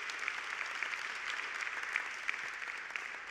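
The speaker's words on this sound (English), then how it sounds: "give claps to, to Jesus" Audience at a priests' gathering breaks into steady applause, a dense even patter of many hands clapping at moderate distance, continuing without a break and with no voices on top.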